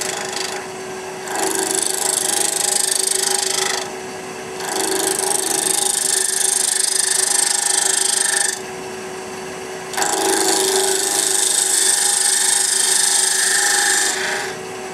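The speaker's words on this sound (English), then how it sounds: "And I take my fingernail gouge, read that bevel back up, and then easily go across." A fingernail gouge cuts across spinning wood on a lathe turning at about 1500 RPM, making three long, steady hissing passes separated by brief pauses where only the motor hum remains.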